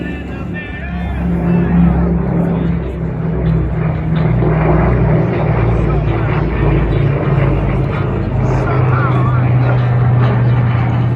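A C-123 Provider military transport aircraft at an airshow flies past with a loud, steady propeller-engine drone, while an announcer talks over a public address system throughout.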